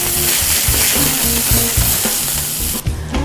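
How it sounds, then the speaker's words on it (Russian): A beef cutlet sizzles loudly in butter in a pan on the stove, a dense close crackle of frying with rhythmic scraping stirs, ending abruptly. "Котлета наша уже пожарилась и готова"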